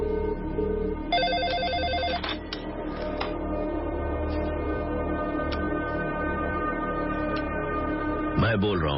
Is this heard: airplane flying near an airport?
no